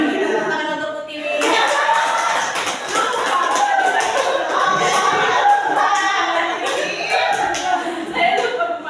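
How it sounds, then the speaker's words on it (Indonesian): Applause from a school audience, dense clapping sustained for several seconds with some chatter and laughter mixed in. "kita tepuk tangan untuk Putih"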